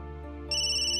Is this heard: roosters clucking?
no